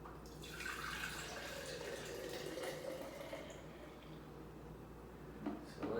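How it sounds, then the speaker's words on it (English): Juice pours from a Breville juicer into a container, a soft continuous liquid trickle and splash at low level that tapers off near the end. "Let's pour out the juice from the Breville and see actually how much juice we got from it."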